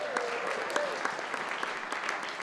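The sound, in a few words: comedy audience applauding themselves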